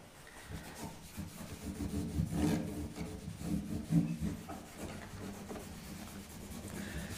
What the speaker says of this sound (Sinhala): මෙහෙම හයියෙන් පොලිෂ් කරපුවම අපේ අර ඩෙඩ් ස්කින් තියෙනවනේ මේ ෆ්‍රෙට් අග තමයි ගොඩක් කරලා තියෙන්නේ